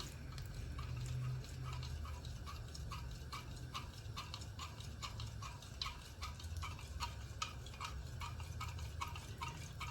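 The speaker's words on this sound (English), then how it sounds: "we'll go ahead and stir this up" Hot used cooking oil being stirred in a pot, a steady run of quick scraping ticks over a low, constant rumble, close and moderately quiet.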